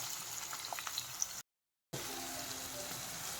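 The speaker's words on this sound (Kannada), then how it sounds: "ಸ್ವಲ್ಪ ಈರುಳ್ಳಿ ಫ್ರೈ ಆದಮೇಲೆ ನಾವು" Onions fry in a pan with curry leaves, giving a soft, steady sizzle that cuts out briefly to silence and then resumes.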